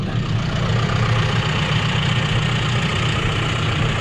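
A tractor engine idles steadily and close by, a constant low rumble with no breaks and no voices.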